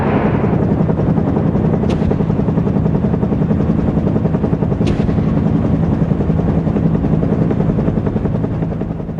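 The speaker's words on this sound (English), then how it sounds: "Dudley Tadamy circled above the battlefield that day in a command and control helicopter." A UH-1 Huey helicopter flies close overhead, its loud, steady rotor thump and engine roar continuing without a break and easing slightly toward the end.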